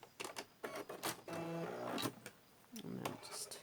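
A sewing machine runs a short back stitch on a bag in two brief whirring motor bursts, with a person talking between them and around them.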